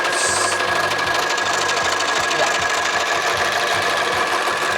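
An overlocker sewing machine runs continuously up close, its fast, even mechanical chatter rattling steadily with a faint whine over the top.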